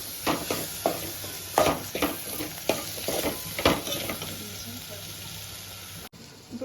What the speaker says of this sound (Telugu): ఇప్పుడు కొంచెం అల్లం వెల్లుల్లి పేస్ట్ వేసుకొని కొంచెం ఫ్రై చేసుకోవాలి.